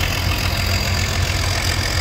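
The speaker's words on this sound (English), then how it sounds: "You see all kind of tractors here:" Vintage tractor engines idle and rumble at a parade, a mix of John Deere, Farmall, Ford and Minneapolis Moline machines, giving a steady, close, low throbbing drone without speech.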